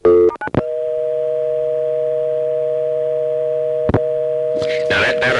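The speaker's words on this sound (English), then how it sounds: "So I'm going to flash and get my dial tone." Clicks from a hook flash come first on a 1A ESS Centrex telephone line, and then a steady, clear dial tone hums for about four seconds. A burst of other noise cuts in near the end.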